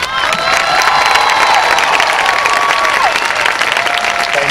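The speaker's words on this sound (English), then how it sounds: "so we can give you a round of applause" A crowd at a high school graduation ceremony applauds as summa cum laude graduates stand, with loud, sustained clapping mixed with cheering and a few high whistles lasting throughout.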